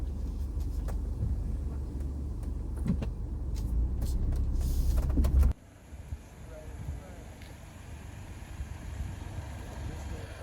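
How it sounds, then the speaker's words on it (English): A BMW G20 power window lowers with a loud motor drone and rumble that cuts off abruptly after about five seconds, leaving quieter background noise. "Put the window down and check."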